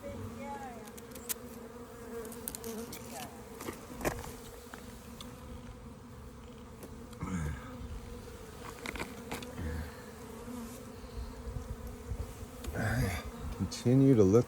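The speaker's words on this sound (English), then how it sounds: "there's still a lot of bees coming over here" Many bees buzz steadily around a hive area after spraying. The hum is low and continuous, with individual insects passing close now and then, and some noise and handling sounds come in near the end.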